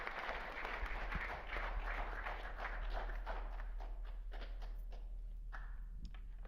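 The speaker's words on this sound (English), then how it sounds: "Give them a round of applause, guys." An audience claps at an AP Day panel event, producing dense, steady applause with many overlapping claps that holds for several seconds at a fairly soft, distant level.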